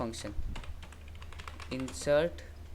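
Light clicking keystrokes on a computer keyboard while typing Python code, heard under intermittent male speech.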